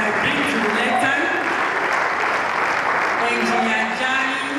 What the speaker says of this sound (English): please go on with that applause